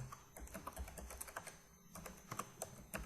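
Steady typing on a computer keyboard while entering text in Microsoft Word 2010, quick close key clicks in an uneven rhythm with a brief pause midway, fairly quiet overall.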